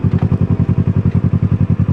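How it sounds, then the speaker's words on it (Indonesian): A motorcycle engine close by gives a fast, even pulsing throb, a steady rhythmic chug for about two seconds with no speech. "Ada motor kan?"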